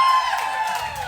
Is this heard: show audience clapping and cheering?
yes